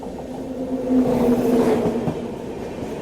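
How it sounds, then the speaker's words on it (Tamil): On a long unreserved rail journey from Tirupati to Madurai, an oncoming passenger express passes on the adjacent track, a loud close rumble of wheels on rails with a droning hum swelling and easing over three seconds, no talk. "சவுண்டை பாருங்கள், ட்ராக் சவுண்டை."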